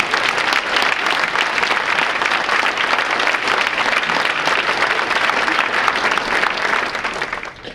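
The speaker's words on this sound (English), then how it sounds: "I think that deserves a round of applause to them." Sustained, dense round of applause from a large audience at an Army ROTC commissioning ceremony, loud and even for several seconds before tapering slightly at the end.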